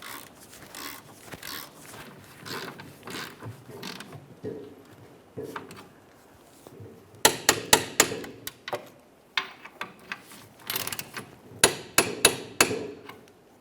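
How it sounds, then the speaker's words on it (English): Center bolts on the rear forward lower control arm of a 2012-2018 Nissan Altima are tightened with a wrench: close bursts of sharp metallic clicks and knocks come in uneven clusters, with short pauses between them and no talking. "We'll tighten each of these 2 center bolts and torque those to 82 foot-pounds."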